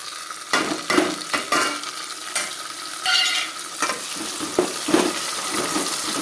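Spiced mutton masala with turmeric and salt sizzles in oil in a pan, broken by close, repeated scraping stirs of a spoon in an irregular rhythm, loud and near with no talking.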